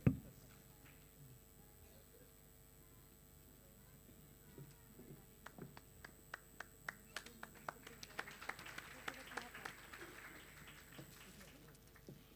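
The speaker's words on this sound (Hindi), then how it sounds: "लोग थोड़ा जोरदार तालियां बजावें" An audience claps at an Indian award ceremony honouring a recipient with a peace and tranquility award. Scattered claps start sparse and faint and build into light applause, heard distant and thin in a large room.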